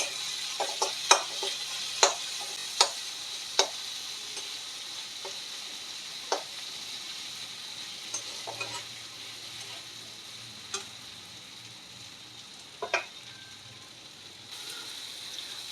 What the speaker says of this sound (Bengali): দশটা কাজু দিলাম আর এক চামচ পোস্ত দিয়ে আর একটু ভেজে নেব